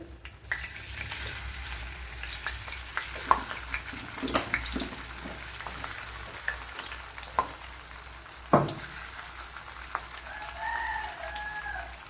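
Jackfruit pieces coated in batter fry in hot oil for a jackfruit fry, with a low crackling sizzle under scattered knocks and stirring clatter, while a rooster crows faintly in the distance.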